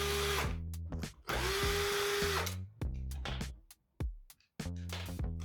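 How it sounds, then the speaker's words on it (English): A power tool removes the key box bolts on an electric bicycle with loud, close whirring bursts that rise and cut off repeatedly, with short gaps between runs. "Remove the key box bolts."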